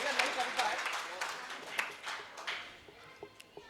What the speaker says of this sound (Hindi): एक बार तालियों से बजा करके मुझे सूचित करें।